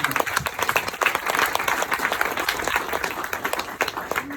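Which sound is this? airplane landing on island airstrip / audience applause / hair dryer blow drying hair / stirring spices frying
audience applause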